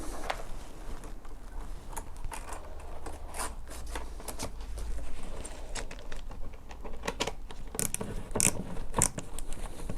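A Jubilee hose clip is tightened around a duct on a positive input ventilation unit, giving a dense run of quick ratcheting clicks and small metallic ticks, close and fairly quiet, with no talking.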